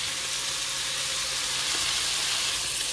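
A pound of sausage browns in a pan with a steady, close, broadband sizzle that holds evenly throughout, with no talking.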